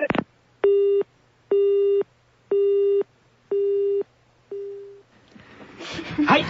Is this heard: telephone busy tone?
yes